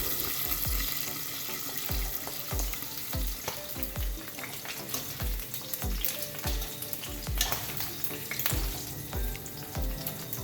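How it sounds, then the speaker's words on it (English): Pork pieces frying in hot oil in a covered skillet or Dutch pot, a loud steady sizzle with crackling pops and spattering oil, close and continuous throughout, with no talking. "that's oil splashing from the pork"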